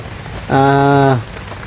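Heavy rain pours down outdoors along a road, a steady dense hiss throughout, with a brief sustained tonal sound rising over it for about a second midway.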